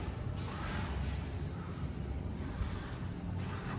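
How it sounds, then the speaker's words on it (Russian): Tropical rain shower running in a spa shower area, a continuous broad hiss of falling water, steady and fairly close with no talking. "тропический душ"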